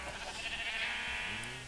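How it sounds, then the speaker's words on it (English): Sheep bleating in Minecraft, a single drawn-out nasal bleat close by, steady for under two seconds over faint background hum. "Over here we got some cows, sheep of different colors for different wool"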